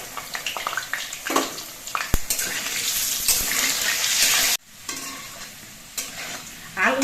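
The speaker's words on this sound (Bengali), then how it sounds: "আলুগুলো ভাজার সময় অল্প একটু নুন দিয়ে দিচ্ছি" Potatoes frying in oil in a kadai with a little salt, heard as a steady close sizzle with bursts of stirring and scraping that drop out briefly, then resume.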